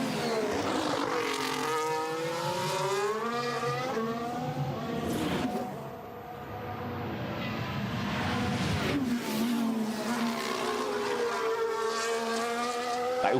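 Formula 1 cars at Hungarian Grand Prix qualifying in 2023, their high-pitched engines whining and rising as several cars sweep past up close, with a short lull between passes.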